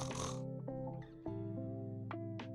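A voice imitates loud snoring with a run of snorting, pig-like grunts up close, uneven and breathy, over about two seconds.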